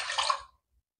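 Water pours into a cooking pot for rice kheer, a short broadband splash lasting about half a second that cuts off cleanly into silence.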